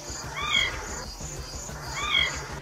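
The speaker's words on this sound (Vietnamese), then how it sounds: "chúng cũng có thể phát ra những tiếng kêu khác như tiếng kêu meo meo" Two high, drawn-out meows from a caracal, one after the other, over a rumbling background.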